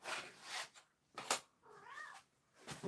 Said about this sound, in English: Kitty, you went outside. I hear you crying.